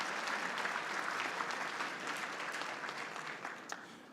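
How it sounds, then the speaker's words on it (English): Audience applause for a vice president at a mayors' gathering, a steady, moderately distant patter of many hands clapping that holds throughout and thins slightly at the end. "Let's give a big, big round of applause to our second Vice President, Mayor Kevin Johnson."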